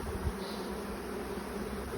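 Honey bees buzz in a low, steady drone around an open brood box during a hive inspection in Australia, continuous and fairly close with no talking.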